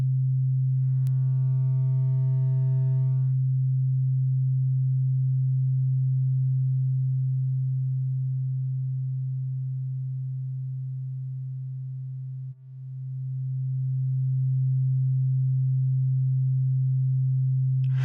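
A steady, loud low sine tone from a CrusherX software synthesizer running through overdrive and spline-curve shaping, holding continuously with a brief higher buzzy burst near the start and a short dip near the end.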